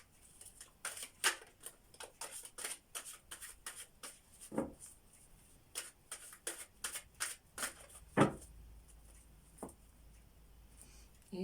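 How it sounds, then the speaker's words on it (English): Playing cards being shuffled by hand, heard as a run of quick, dry riffling and sliding bursts at an uneven rhythm, close and fairly quiet, with no talking. "A little bit more shuffling."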